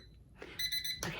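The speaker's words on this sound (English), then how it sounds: "okay, that's my timer" A kitchen timer alarm goes off with a quick run of bright, evenly spaced electronic beeps, loud and close, sounding alone in a short burst.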